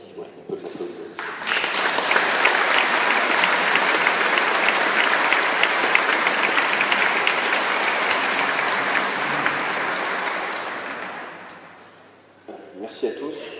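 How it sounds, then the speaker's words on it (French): A room full of people bursts into applause for someone receiving a plane ticket, a loud, even clapping that swells after a brief spoken line, holds for about ten seconds, then fades as talk resumes. "Voilà, on peut l'applaudir."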